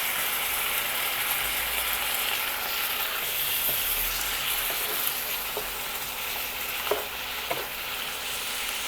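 Chicken stir-fries in a pan with sweet peppers and king oyster mushrooms, giving a constant bright sizzle broken by scattered scraping clicks from stirring.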